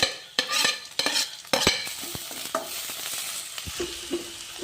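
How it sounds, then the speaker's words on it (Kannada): Tomatoes tipped into a pan of frying chitranna ingredients, with a burst of spoon strikes against the pan giving way to a steady sizzle and scattered scraping stirs, close and with no talking. "ಇದು ಸ್ವಲ್ಪ ಗೋಲ್ಡನ್ ಕಲರ್ ಬರೋವರೆಗೂ ಫ್ರೈ ಆಗಿ. ಇವಾಗ ಸ್ವಲ್ಪ ಟೊಮೊಟೊ ಹಾಕೊಂಡು,"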